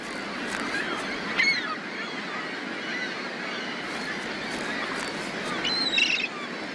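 A colony of gull chicks calls in the wild in Spain, a dense, continuous chorus of overlapping cries under steady background noise, with a couple of sharper, louder calls standing out near the start and again toward the end.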